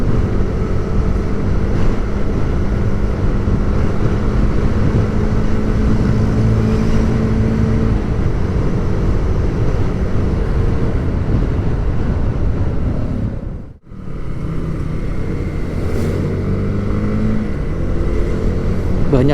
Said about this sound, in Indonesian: Banyak bis-bis pariwisata juga teman-teman, bis-bis nanggung.